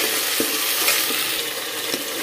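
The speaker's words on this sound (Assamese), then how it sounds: "এতিয়া অকণমান আদা নহৰু কেঁচা গোন্ধটো যোৱালৈকে ভাজি লম" Ginger and garlic sizzle steadily in a hot pan as a few soft scrapes of stirring break through now and then.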